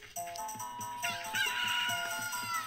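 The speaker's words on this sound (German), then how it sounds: "Und wir hören wieder ein Huhn." A chicken clucks in The Legend of Zelda: Ocarina of Time, short fowl calls over steady game music.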